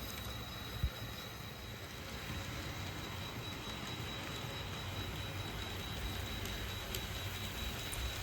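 A Santa Fe passenger train runs around a model railroad layout at a scale 45 mph, giving a steady, even rolling rumble with a faint high whine throughout and one small click near the start.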